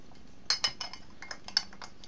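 A bottle of Little Creatures Pale Ale being cracked open, heard as a few sharp, close metallic clicks and clinks spread over two seconds, with no talking.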